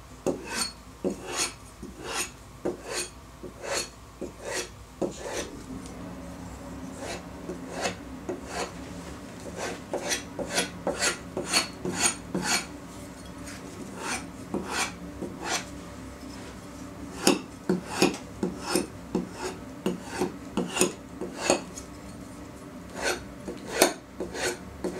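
A knife blade is pulled through a sharpener at an angle, one side at a time, in a fast series of crisp, rasping strokes, dozens of them in a steady, slightly uneven rhythm, close and clear.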